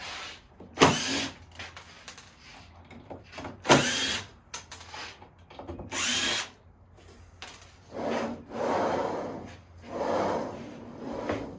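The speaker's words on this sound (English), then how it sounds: "you take all your screws out" Screws being backed out of the rails of a router sled with a power driver, in several short whirring bursts separated by brief pauses and handling clicks.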